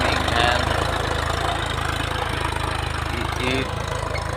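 A tractor engine idles and chugs nearby in a rural field with a cultivator, a steady low throbbing drone that continues the whole time with a faint rise near the end.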